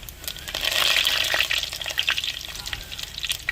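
Urad dal, cumin and curry leaves sizzle and crackle in hot oil for a South Indian potato rice breakfast, a loud, dense frying hiss with popping spatters and some stirring, close up.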